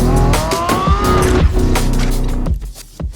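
A Lamborghini Revuelto engine revs loudly and close by, its rising, harmonic tones sweeping up and down over about three seconds with a tire-squeal-like edge, then dropping off at the end.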